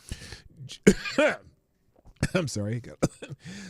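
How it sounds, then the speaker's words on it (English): A person coughs and clears their throat a couple of times, then speaks briefly. "Let me get my cough."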